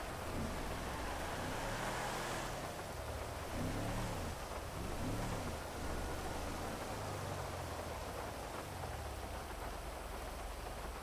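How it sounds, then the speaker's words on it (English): Heavy rain in the video game GTA pours down loudly and steadily as a dense, continuous hiss with a low rumble underneath, without a clear thunder crack. "it's just rain. Rain has always been really loud in GTA."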